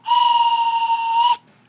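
A steam train whistle blows one long, loud, steady blast with breathy hiss, held for over a second before cutting off abruptly into near silence.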